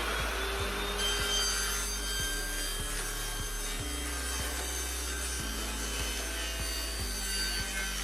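A saw cuts aqua blocks in repeated back-and-forth strokes with a steady rasping rhythm. The sound is fairly quiet, close and continuous, with no voices.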